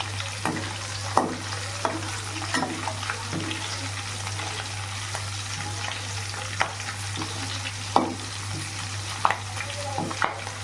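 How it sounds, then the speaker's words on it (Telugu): Green chillies fry in a pan while being stirred, a steady close sizzle punctuated by irregular scrapes and clacks of the utensil, under a constant low electrical hum. "ఇప్పుడు దీనిలో పచ్చిమిరపకాయలు ఫ్రై చేసుకున్నాం."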